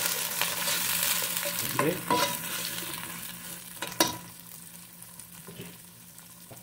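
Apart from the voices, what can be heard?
onion, chili and aromatics frying in a pan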